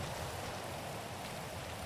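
Steady broadband rain falling in the GTA Online game world, an even, continuous hiss with no breaks, moderately quiet and heard alone without any voices.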